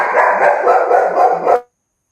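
A dog gives a rapid burst of barks or yips, loud and close, lasting about a second and a half before stopping abruptly into silence.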